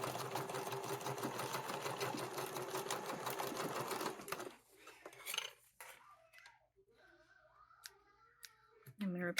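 A domestic sewing machine fitted with a normal presser foot whirs through a fast, steady run of stitching for about four seconds, then stops, leaving faint clicks and handling sounds under quiet talk.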